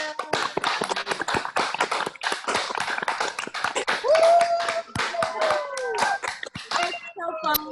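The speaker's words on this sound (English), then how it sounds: "we'll just give a nice little loud round of applause for everybody." Scattered hand claps from children and adults unmuted on an online open mic call for 3rd to 8th graders, irregular and overlapping, with chatter and a voice over the top.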